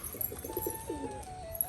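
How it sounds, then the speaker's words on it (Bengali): A pigeon, newly brought home and out of breath after flying, gives a short run of soft, low, throaty coos close by over faint background hiss, lasting under two seconds with no speech. "এতক্ষণ উড়ছিল ওই জন্য কিন্তু পায়রাটা ফুল হাফসাচ্ছে দেখুন"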